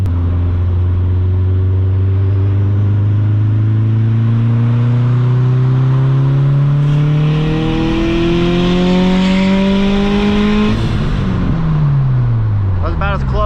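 A car's engine pulls hard up a highway on-ramp, the tone climbing steadily through one long gear before a shift near the end, loud and close from inside the cabin.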